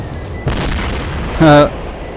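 A pipe bomb goes off in Killing Floor as a short, heavy boom, followed by a second louder burst of noise, with someone talking through it.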